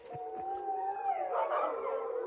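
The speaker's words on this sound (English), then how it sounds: "There's a dog kennel, and they're all Huskies or Akitas. I can't really tell from here, but wow, are they loud." Huskies and Akitas howling together at a dog kennel, several long wavering howls overlapping into a loud sustained chorus from some distance, with no talk.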